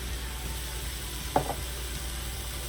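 Seasonings sizzle in a hot pan for spaghetti sauce, a steady soft frying hiss with one brief scrape or clink partway through, fairly quiet and without talk.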